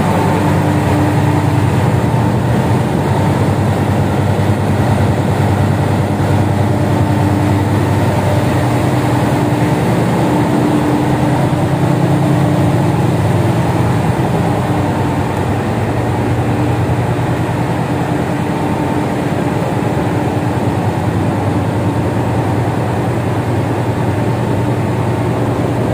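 An industrial water boiler fires up, its burner and blower filling the space with a loud, steady, broadband roar that holds without a break.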